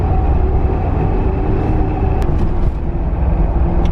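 Fury Quantum 37-inch tires roll on a Jeep at highway speed, giving a loud, constant low road roar and hum with a few faint high ticks, and no talking.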